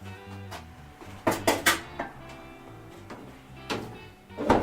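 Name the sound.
cookware dish placed on the floor of the oven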